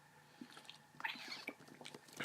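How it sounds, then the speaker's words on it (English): A pet cat meows from outside a closed door, one short, muffled cry in a quiet room, with soft background noises around it and no talking. "He likes to sit outside my door and meow."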